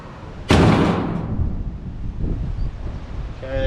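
A sudden strong gust of wind roars across an outdoor microphone beside a John Deere 460M baler, then settles into a steady blustery rush that lasts to the end.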